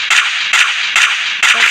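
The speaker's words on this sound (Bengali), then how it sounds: "কত গুলি করতেছি লাগতেছে" Four sharp, loud MP40 shots in a video game, fired in an even rhythm about half a second apart, close and punchy with no talk.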